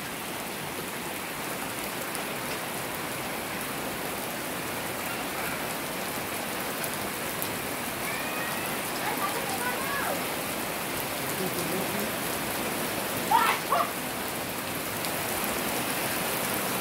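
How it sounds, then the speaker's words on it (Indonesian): Steady rain falling, a constant dense hiss of drops on surfaces, even and close throughout with no breaks, apart from a brief faint tonal chirp partway through. "cuacanya hari ini teman-teman hujan"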